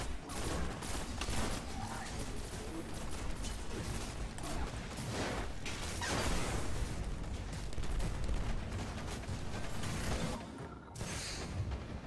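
Dense, continuous video game gunfire from a PS3/PC shooter fills the scene with rapid shots and booms at steady loudness, with brief speech mixed in.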